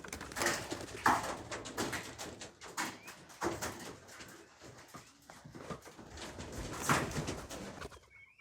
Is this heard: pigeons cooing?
yes